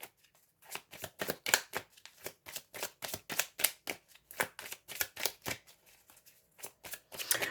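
Tarot cards being shuffled by hand, a rapid run of crisp papery flicks and slaps repeating steadily for several seconds, close and fairly quiet, with no talking.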